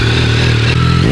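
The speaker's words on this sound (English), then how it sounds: "One last little rev." A Yamaha R9 motorcycle engine revs loud and close, a steady low throttle roar that holds briefly and then begins to drop away, with no voices over it.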